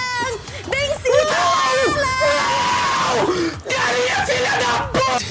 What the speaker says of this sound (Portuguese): até mesmo aquela gritaria frenética que rolava no Fall Guys